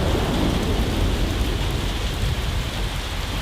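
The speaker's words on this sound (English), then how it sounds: "Big drops, crashing on the roof, drenching the soil in seconds" Heavy jungle rain, the first of the season, pours down hard in a dense, unbroken roar of big drops crashing on a roof and soil, with a low rumble of thunder mixed in, loud and close.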